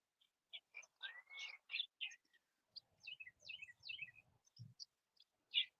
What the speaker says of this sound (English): That guy wasn't chirping until he heard your birds.